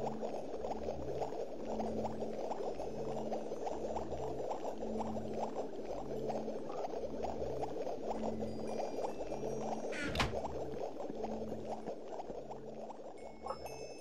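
A pot of paper pulp bubbles steadily as it cooks for papermaking, giving a dense, continuous simmering burble with a low rhythmic hum beneath and one brief sharp clink partway through.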